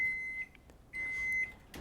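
Kitchen oven beeping when preheating finishes, two long steady electronic tones with a short gap between them and a brief chirp at the end, quiet against a faint room hum.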